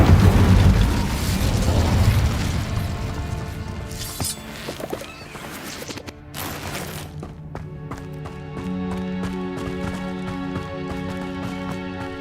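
An Incendio fire spell is cast in Hogwarts Legacy, a loud booming burst of flame that rumbles and crackles before dying down beneath a sustained musical score.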